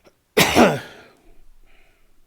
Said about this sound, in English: I cough a lot and make a lot of noises.